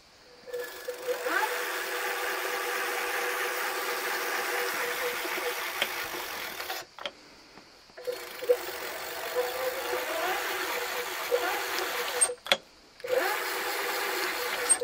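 A DYU T1 folding electric bike's motor whines steadily as it accelerates, cutting out twice briefly before spinning up again, with faint clicks between bursts.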